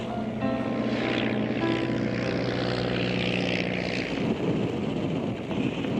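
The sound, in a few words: propeller aeroplane in flight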